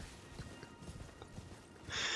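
Horse hooves clip-clop in a steady run of soft thuds in the Elden Ring video game, the animal handling sluggishly, before a loud hissing burst near the end.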